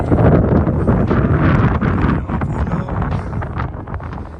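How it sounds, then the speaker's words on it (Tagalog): Steady rumbling wind buffets the microphone throughout during a bicycle ride on an open road, a loud broadband roar with gusts that ease slightly toward the end. "Mahangin lang talaga."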